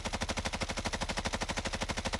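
A Bruen Mk9 rifle fitted with a commando foregrip fires in Warzone as an unbroken burst of evenly spaced automatic shots, roughly ten per second, loud and steady with no voices.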